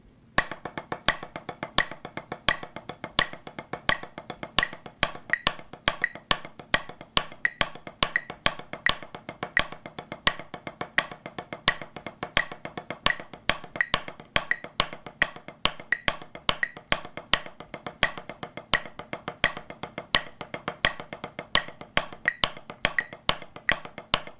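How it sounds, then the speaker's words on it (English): Sharp drum hits in a repeating pattern of five accents over three metronome clicks, a 5/3 polyrhythm, continuing evenly for the whole stretch. "you'll be playing 5 accents over the 3 clicks, creating sort of a 5/3 polyrhythm."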